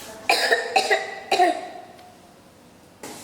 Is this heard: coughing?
yes